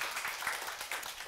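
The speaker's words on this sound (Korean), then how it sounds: "우리 한번 박수 한번 쳐볼까요?" An audience applauds at a lecture on Old Testament theology, a brief, soft patter of many hands clapping together, fairly distant and steady for just over a second.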